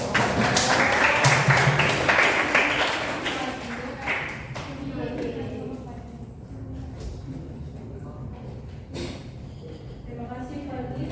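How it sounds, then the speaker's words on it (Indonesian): A classroom audience claps after a student presentation on AI devices, a burst of scattered clapping in the first few seconds that fades as a voice carries on talking in the room. "Tepuk tangan dulu dong"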